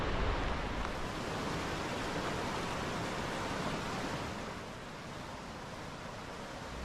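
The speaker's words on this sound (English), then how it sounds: "Hear the waterfall." Waterfall in Sinclair Gorge, Kootenay National Park, with the creek running high in early June: a steady, loud, broadband roar of rushing water that stays constant throughout with only a slight dip in level near the end.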